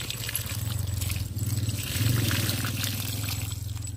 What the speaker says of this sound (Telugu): నీళ్ళు పోయి